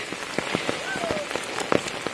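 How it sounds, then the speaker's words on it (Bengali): Heavy monsoon rain falls steadily on a road and canal, a constant hiss of drops with sharper splashes and patters throughout, close and continuous, with no talk. "ব্যাপক বর্ষা হচ্ছে।"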